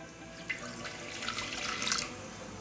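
Water pours from a tap into a vessel for boiling vegetables such as drumstick, carrot, beans and potato for bisibelebath, a faint steady splashing stream with no talking.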